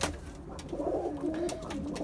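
Tumbler pigeons coo softly in a short, rolling burst, a low throaty warble close by in a loft, with faint background noise and no voices.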